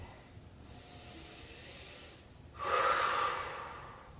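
Slow breathing during an Eldoa stretching exercise, a soft close inhale followed by a louder, longer exhale, with no talking.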